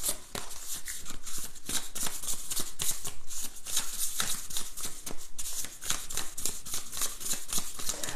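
Tarot cards being shuffled by hand, a steady run of crisp riffling and flicking bursts, close and continuous, with no voices.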